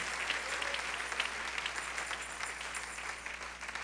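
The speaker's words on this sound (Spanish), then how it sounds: "Dale ese aplauso al Señor." A church congregation applauds during a Spanish-language sermon, a dense steady clapping from many hands that fills the room throughout, with no clear speech.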